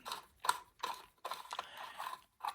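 Metal tap being worked back and forth to re-cut the thread on a bolt, giving a series of short ratcheting, grinding bursts with brief pauses between them, close and fairly quiet.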